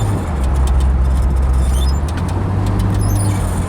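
A 1965 Pontiac GTO convertible drives along in fourth gear, its engine a steady low drone with road and wind noise, loud and close throughout.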